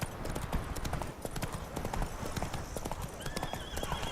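Geralt's horse Roach in The Witcher 3: Blood and Wine galloping up after being called, a steady rapid clip-clop of hooves with a brief whinny, fairly close and continuous.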